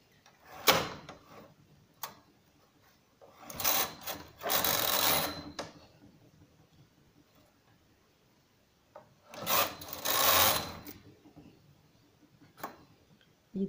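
Knitting machine carriage sliding across to knit stitches, a few loud rasping sweeps separated by quiet pauses, close and clear.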